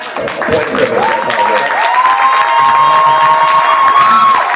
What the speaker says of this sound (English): So this is the only person you're allowed to give a round of applause.